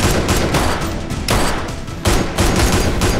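Heavy gunfire in the S.W.A.T. video game during a prison riot, loud and dense bursts of shots and booms filling the whole moment with barely any pause.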